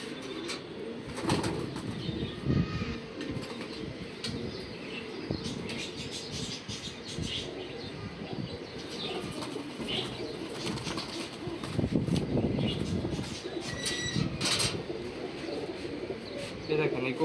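Pigeons coo softly and flap their wings now and then, close by, under steady talking from a man and some background chatter.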